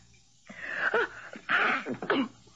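A few sharp, breathy bursts close by, sounding like a sneeze or two with throat noise, in an otherwise quiet, dusty room.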